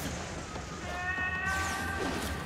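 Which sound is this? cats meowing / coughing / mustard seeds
cats meowing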